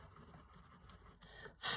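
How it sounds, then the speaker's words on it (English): Prismacolor colored pencils on paper, worked with heavier pressure, give a continuous soft scratchy scribbling that grows louder and rougher at the end, close and alone. "So I'm starting to be a little bit heavier with my pressure now. These Prismas are blending beautifully"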